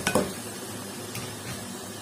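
Chopped vegetables tipped into fried masala in a cooking pot, a brief clatter and scrape of utensil against metal near the start, then a low, steady sizzle continuing quietly.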